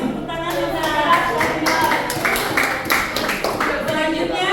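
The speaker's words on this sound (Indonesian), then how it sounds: "tepuk tangan Bunda" Children's group applauding in an elementary classroom, a steady patter of many hands clapping continuously and fairly loud, with voices mixed in.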